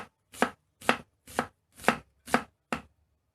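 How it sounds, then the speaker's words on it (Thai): Shallots are chopped with a knife on a board in a Thai kitchen, giving six sharp, evenly spaced chops, close and clear with no talking. "หั่นหอมลงไปเลยนะคะ"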